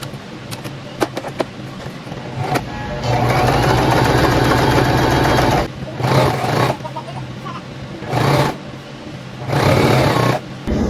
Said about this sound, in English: you're going to go ahead and sew the sides, all the 4 sides.